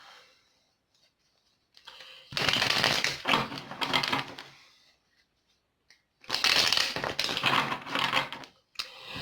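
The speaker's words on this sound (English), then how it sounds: "The card fell out and I was shuffling them." A deck of tarot cards is shuffled in two brisk, loud bursts of rapid papery flicking and riffling, separated by a few seconds of near silence, close to the listener with no talking.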